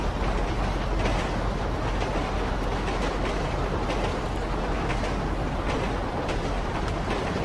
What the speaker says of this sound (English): We get on the train.